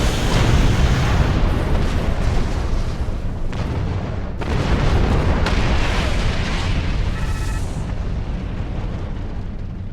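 Torpedo blasts during a starship battle in Star Trek Online, a dense run of heavy booming explosions with crackling bursts and rumbling decay, loud and continuous without talk.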